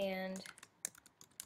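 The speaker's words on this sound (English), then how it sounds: "as I was typing" Fast, light tapping on a computer keyboard, a run of close, quiet keystrokes that follows a brief spoken word.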